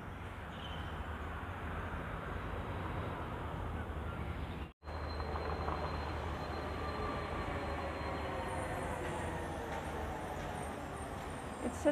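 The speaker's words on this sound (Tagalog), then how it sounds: "The train." Train rolling past during an outdoor walk, a continuous low rumbling roar with faint wheel tones that stays steady for the whole stretch apart from one brief dropout midway.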